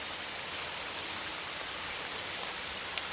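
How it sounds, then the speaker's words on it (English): Gentle rain falls steadily outside at night, a soft, even hiss of drops on surfaces that continues unbroken throughout, with no voices. "As the rain continues to fall gently outside"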